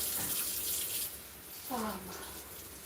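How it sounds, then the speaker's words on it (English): Fresh tap water runs steadily while items are rinsed under it, a faint continuous splashing hiss with a voice briefly speaking over it. "I'm just over here washing them real fast in fresh running water"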